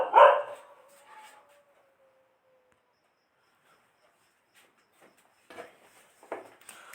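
Dogs bark late at night around midnight, one loud burst at the start, then a quiet gap with crickets faintly audible before several more scattered barks toward the end.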